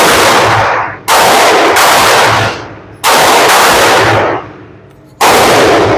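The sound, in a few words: pistol gunshots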